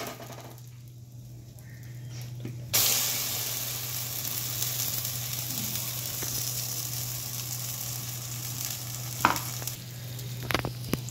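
Ground lentil paste frying and being stirred in hot oil tempered with asafoetida for club kachuri filling, a sudden loud sizzle that settles into a steady hiss over a low hum, with a few scraping knocks near the end.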